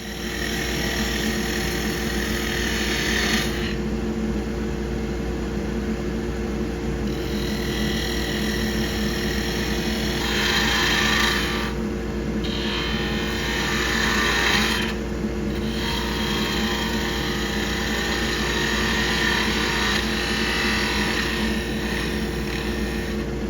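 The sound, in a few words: skew chisel planing cut on wood lathe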